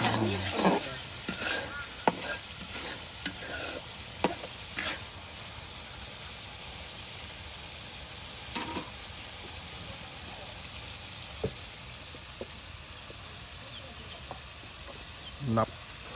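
Shrimp sautéing with spices in a pan during a rural village cooking session, a steady low sizzle running throughout with scattered clinks and stirring knocks, quieter later with occasional sharp taps.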